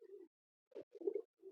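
Teddy King pigeon cooing close by in a few soft, throaty bursts: one short coo, a pause, then a longer rolling coo phrase and a final brief coo, with no talking.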